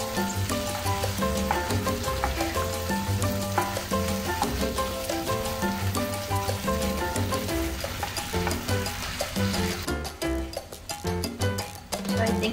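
Shrimp sizzling loudly in a hot pan during the cooking of a Filipino squash dish, a steady crackling fry running throughout with music playing over it.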